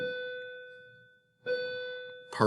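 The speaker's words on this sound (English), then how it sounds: "the bell." A school bell rings in clear, sustained tonal strokes that ring out and fade, with a second strike after a short gap and a brief noisy clang at the end, heard indoors without talk.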